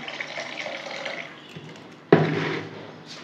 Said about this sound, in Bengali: আর একটু গ্রেভির জন্য জল দেবো।